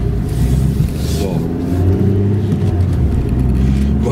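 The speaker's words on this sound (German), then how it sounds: "Ihr hört es vielleicht, da ist so ein Radlager kaputt." A Citroen C2 driving with a broken wheel bearing, giving a steady droning rumble and engine hum inside the car that holds constant throughout.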